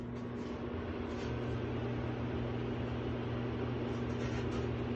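A microwave oven hums steadily with freshly cut onion arcing inside, a constant drone with a strong low buzz and a faint crackling hiss, no voices.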